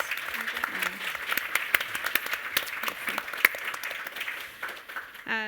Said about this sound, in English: A round of applause for our panel, please.